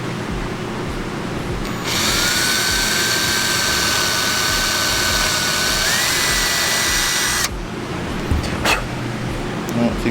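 Power drill boring a hole with a larger bit during a trophy truck repair: a loud, steady whine runs for about five seconds with a slight pitch shift, then cuts off abruptly, leaving room noise.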